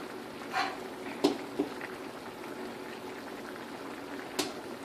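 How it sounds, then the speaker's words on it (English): Pot of Mexican rice with cilantro boiling on a stove, a soft steady bubbling with a few louder pops and gurgles, fairly close and quiet, no talking. "So now that it's bubbling up a lot, I'm going to go ahead and turn this down"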